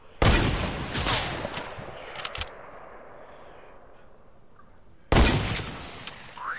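Hunting rifle fire in Fortnite Creative: a few loud, sharp reports at the start, with a lingering tail, then quieter ambience before one more heavy shot near the end.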